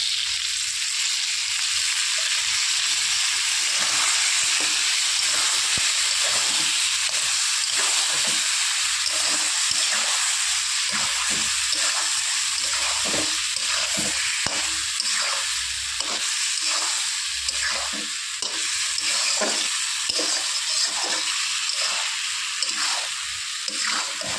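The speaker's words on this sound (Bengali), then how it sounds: "আলু পটল লাল করে ভেজে নিয়েছি, এবার দিয়ে দেবো মশলার পেস্টটা।" Potatoes and pointed gourd frying in oil with spice paste for a Bengali curry, a steady close sizzle with repeated stirring scrapes throughout, no voices.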